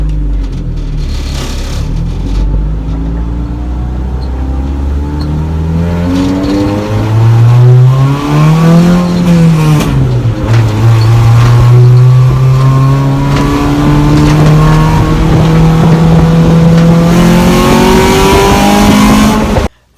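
A Honda Civic EG car on a test drive: its engine pulls hard with loud, rising revs through the gears, steady road roar underneath and a brief drop at the end.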